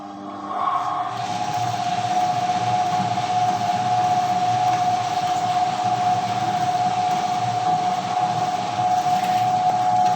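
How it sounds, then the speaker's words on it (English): A wet grinder churns soaked seeds into dosa batter, starting up with a steady motor whine and a constant droning hum that continues loud and unbroken, with no voices. "seeds are soaked and they are ready for grinding, add to the grinder"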